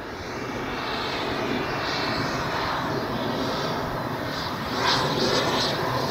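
A Freewing MiG-29 RC jet with twin 80mm jet units flies overhead, giving off a steady, loud rushing whine that holds throughout and swells briefly toward the end.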